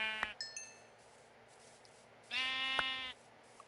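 Two sheep bleats from Minecraft, one short and one longer, lasting about a second, play in a game courtyard setting. They are separated by a quiet stretch, and no voices are heard.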